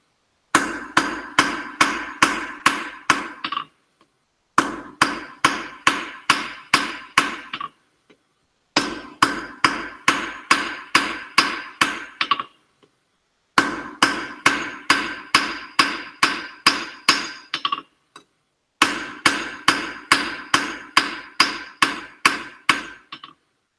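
A hammer taps a diamond point stone engraving tool in five bursts of rapid, evenly spaced metallic strikes, each burst slowing at its end and separated by short pauses; close and crisp, with no voices.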